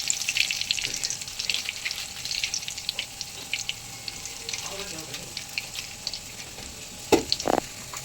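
Light crackling sizzle of bay leaves and garam masala in hot oil, with scattered pops and a couple of clinks near the end, close and moderately quiet.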